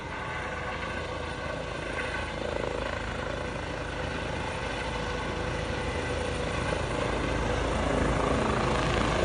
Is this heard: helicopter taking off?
yes